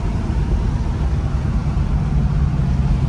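Rumbling engine of a 500hp 1969 Chevy Camaro doing skids in Australia, a steady, heavy low drone held continuously at an even level with no voices.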